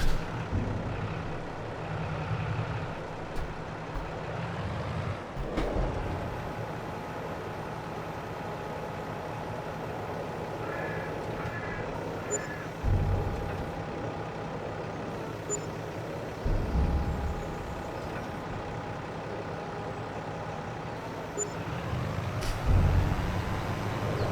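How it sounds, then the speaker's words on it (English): Tipper truck reversing in Farming Simulator 22, with a steady engine drone, faint tonal beeping and a few short air-brake-like hisses and thumps over a continuous low rumble. "I forgot I had a tipper truck."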